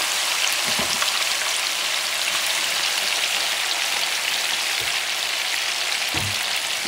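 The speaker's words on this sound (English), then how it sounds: "And you start frying this baby." Meat for Puerto Rican carne frita fries in hot oil with a steady, dense sizzle and crackle that runs unbroken from start to finish, close and loud, plus a few faint low knocks.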